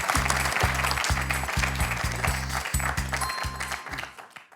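A studio audience on a French quiz show applauds, with steady clapping that fills the room under a rhythmic pulsing music beat before the whole thing fades out.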